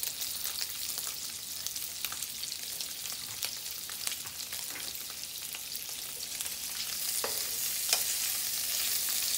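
Hot dogs fry in a pan with onions, giving a steady, close sizzle with crackling pops and occasional stirring, no talking.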